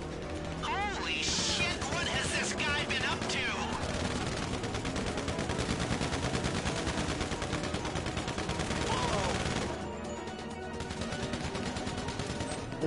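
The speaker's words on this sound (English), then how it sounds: "Freaking blind firing down here on me." Rapid gunfire in a first-person shooter as an enemy blind-fires down a stairwell, dense rattling shots and clattering impacts running continuously at moderate loudness, with a voice talking over the fight.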